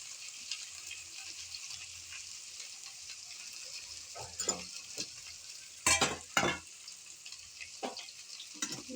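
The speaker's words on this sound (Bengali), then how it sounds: "এর সঙ্গে একটু ফ্রাই করে নেব" Food frying in a pan gives a constant soft sizzle, broken by several sharp scraping and clattering stirs, the loudest around the middle, heard close and at low to moderate level with no voices.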